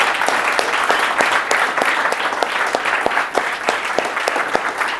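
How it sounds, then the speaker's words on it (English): Hearty applause closes the first day of a business workshop, with a full, continuous spread of clapping and a few sharp individual claps standing out, fairly loud and with no talking over it. "So big round of applause for everybody that's been involved."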